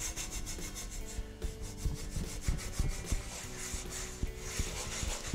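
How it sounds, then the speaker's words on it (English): Cast iron cookware being scrubbed in a kitchen, a quiet run of rough, rasping strokes with irregular scraping rhythm and small knocks, close to the microphone and without talk. "We're just scrubbing it,"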